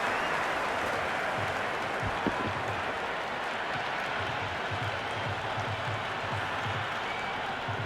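Dense roaring crowd at a packed cricket stadium during a CSK vs MI match, a steady wash of cheering and applause that holds at full level throughout with a brief sharp peak near the middle.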